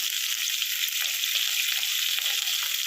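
Continuous bright crackling sizzle of onions, green chillies and curry leaves frying in hot oil for egg curry, close and steady with no talking.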